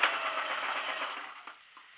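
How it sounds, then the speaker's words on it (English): Sewing machine stitching down a folded fabric hem on a circular top, a steady fast whirring run that slows and fades near the end with a couple of small clicks. "Then you have to sew it down."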